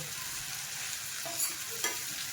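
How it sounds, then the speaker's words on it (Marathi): A vegetable dish of khengat, the Bhogi festival mix, is stirred in a pan over a quiet background sizzle, with two soft scraping touches of the spoon. "याच्यामध्ये टाकूया दोन चमचे हवले आणि हे मिक्स करून घेऊया"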